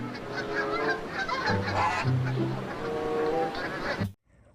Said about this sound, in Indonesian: seekor bebek angsa